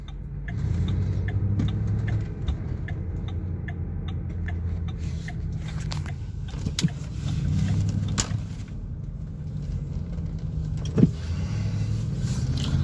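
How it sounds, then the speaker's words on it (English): A police car drives nearby on a road, a steady engine and tyre rumble heard from inside a moving vehicle, continuous and fairly loud with faint ticking over it. "More police coming in my direction."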